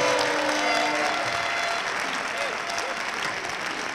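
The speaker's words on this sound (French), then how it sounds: "un tonnerre d'applaudissements" An audience at a country line-dance team final in Issoudun applauds steadily, a broad sustained wash of clapping with a voice briefly heard over it.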